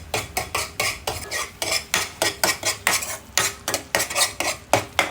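A utensil stirring spices in a pan for okra (bhindi) sabji, with close, rhythmic scraping and clinking strokes repeating about twice a second, alone without speech.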